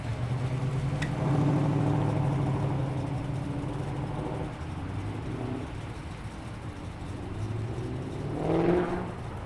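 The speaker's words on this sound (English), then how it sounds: "Lovely Mustang." A tuned Ford Mustang muscle car engine rumbles past at moderate distance at a car meet, swelling then fading, with a brief rising rev near the end.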